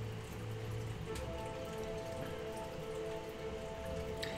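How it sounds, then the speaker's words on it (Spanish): Heavy rain pours down steadily, a dense continuous hiss of drops drumming on surfaces, fairly faint and even throughout with no voices. "Qué buena lluvia se vino."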